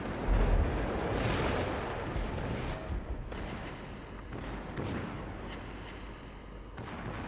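Warship guns firing in the World of Warships naval battle game, with a Tirpitz and Musashi in action: heavy rumbling booms and layered cannon blasts rolling on continuously.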